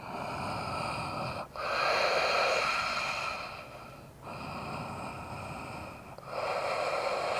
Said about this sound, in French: Prenez quelques respirations ici.